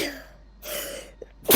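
A single sharp human sneeze with an audible intake of breath before it, close to the microphone, followed by a brief quieter pause and a small click.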